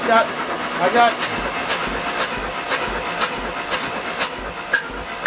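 The engine of an old Jeep cranks over with the spark plugs removed, sending out a steady series of rhythmic whooshing puffs from the open cylinders, moderately close, with faint background noise.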